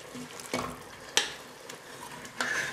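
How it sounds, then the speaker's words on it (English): Bow tie pasta goes into a pan of garlic over low heat and gets stirred, with soft frying sizzle broken by a few sharp scrapes and clacks of utensil against pan, alone and close. "turn the fire back on low and add the pasta"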